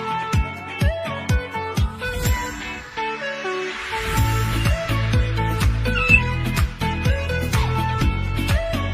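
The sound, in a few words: imitated cat meow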